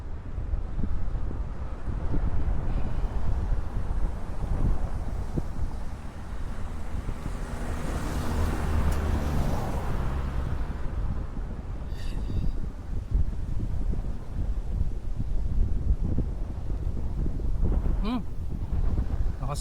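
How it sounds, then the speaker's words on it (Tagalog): Strong wind rushes past during a bike ride on a road under construction, a steady broadband roar buffeting the microphone for the whole stretch, with faint voices underneath. "Lakas ang hangin ah."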